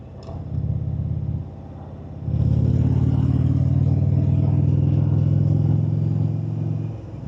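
An Indian motorcycle with Rush Racing slip-on exhaust rumbles deep and close, revving briefly, dropping, then holding a loud steady drone while riding down the road.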